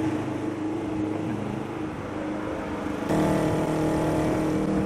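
An 8 horsepower scooter held at full throttle, a steady buzzing engine drone that rises in pitch and loudness partway through as it pulls forward.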